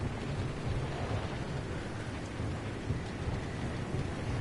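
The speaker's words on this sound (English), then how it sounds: "This is so noisy with all the rain." Heavy rain pours steadily in the Pacific Drive video game, a dense, loud hiss with a low rumble underneath that never lets up, with no voices over it.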